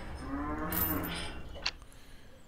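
A cow moos in the farming sim game Der Planer Landwirtschaft, a drawn-out call rising over steady farm ambience, loud at first and fading toward the end.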